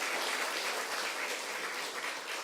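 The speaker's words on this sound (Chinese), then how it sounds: "咱再一次鼓掌，甲罗牧师鼓励" Church congregation applauding for a visiting pastor at a building-fund Sunday service, a steady dense wash of clapping filling the room for the whole stretch at moderate volume, no voices over it.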